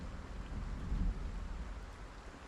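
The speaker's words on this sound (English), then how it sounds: "we're going to listen to the sounds of the rain for a little while" Steady rain falls outdoors as a dense, even hiss with a low rumble underneath, continuous and moderately loud, with no voices.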